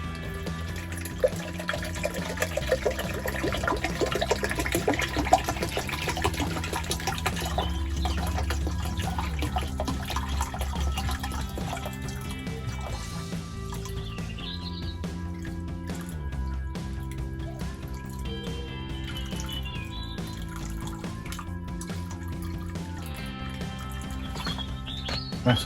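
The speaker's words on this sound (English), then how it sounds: "We'll then add enough water to go exactly to 1 litre." Tap water running steadily into a measuring jug of salt to fill it to one litre, a continuous close splashing and trickling stream over a sustained tonal background hum.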